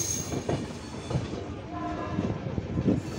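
The Kaifiyat Express passes near Shahganj Junction with rumbling wheels and a rhythmic clatter over the rails, while a horn sounds faintly in the background.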